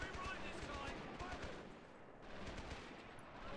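Machine gun fire in the wartime strategy game Men of War: Assault Squad 2, a faint continuous rattle of rapid bursts through the whole stretch, with light background game noise.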